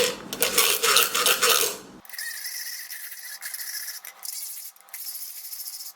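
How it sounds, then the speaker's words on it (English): Bamboo matcha whisk brushing rapidly through matcha paste in a bowl, a steady close scratchy swishing after a brief louder clatter at the start, with no voices. "you take this tool here and you just whisk it"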